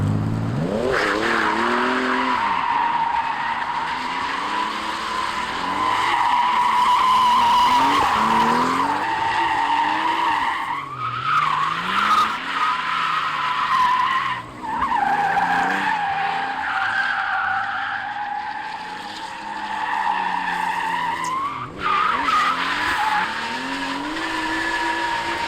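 A Lexus GS300 drifting on a track: loud, sustained tire squeal and skidding with a revving engine, rising and falling through several long slides, close by with no speech.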